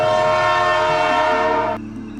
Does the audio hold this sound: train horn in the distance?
yes